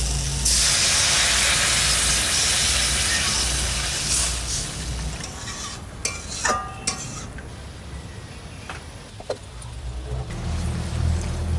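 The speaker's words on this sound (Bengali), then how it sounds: "আর জল দিয়ে দিচ্ছি" Water is poured into a pan of hot frying onion, cumin and chili paste, setting off a loud rushing hiss of steam that gradually fades into scattered pops and crackles.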